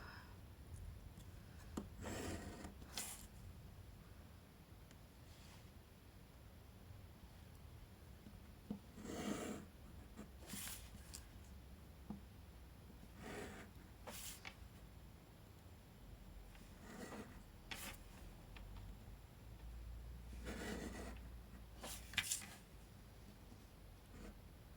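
Paper being cut for a handmade mini album: quiet, intermittent scraping and rustling strokes, spaced irregularly over a faint background, close but soft.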